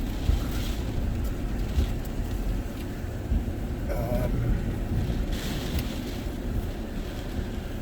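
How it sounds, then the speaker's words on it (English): Hurricane Ian's strong winds roar steadily past a car driving along a street, with constant low rumbling buffeting and a brief gust-like rise midway, and no clear talking. "Wow, look at those winds, guys."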